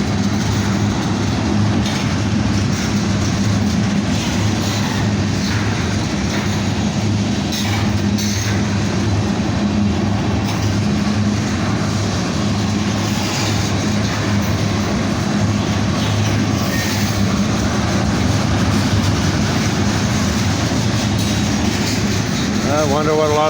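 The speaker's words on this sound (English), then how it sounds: "3 locomotives, heavy train, a lot of liquid in it." A heavily loaded freight train with three locomotives passes close by, carrying liquid chemicals in its cars. Its wheels clatter in a loud, continuous rumble, with occasional voices underneath.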